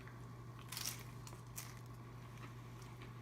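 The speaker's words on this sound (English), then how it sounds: "did you hear that crunch?" A single crisp crunch as a crispy tortilla pizza is bitten, followed by a second softer crackle, over a steady low hum.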